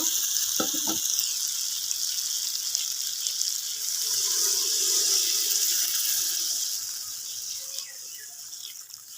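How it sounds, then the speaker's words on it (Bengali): Water poured into a hot pan of sizzling rui fish curry with mukhi kochu, a loud steady hiss and bubbling that swells midway and then eases, heard up close after a few clinks of a utensil. "ভালো করে কষানো হয়ে গেছে এখন জল দিয়ে দেব"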